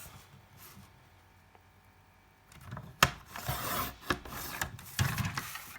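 Paper trimmer slicing through a sheet of cardstock-weight paper for a memory box craft: a quiet lead-in, then close scraping and rubbing slides with sharp snaps, with a brief rasping cut near the end.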